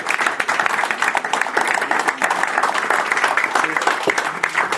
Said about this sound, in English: Give yourself a round of applause for helping us fulfill our mission.